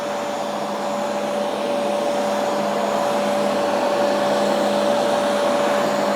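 Bissell TurboClean PowerBrush Pet carpet cleaner running on carpet with suction, a loud steady motor whine and rushing airflow holding a constant pitch throughout, close by and without talk.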